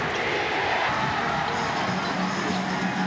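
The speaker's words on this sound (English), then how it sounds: "This crowd getting antsy." Crowd at a PBA Philippine Cup basketball game between TNT and Brgy. Ginebra in an indoor arena, a loud, steady roar of many voices with scattered cheering, continuous throughout.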